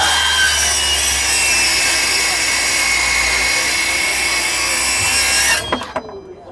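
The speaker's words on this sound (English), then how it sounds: "let me go ahead and cut this piece of rebar" A cordless one-handed saw cuts through a piece of rebar, a steady loud grinding and rasping that runs continuously for several seconds before abruptly stopping, leaving a brief quiet tail.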